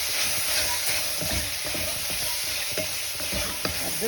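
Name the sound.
sauteing mutton with ginger garlic paste and chili powder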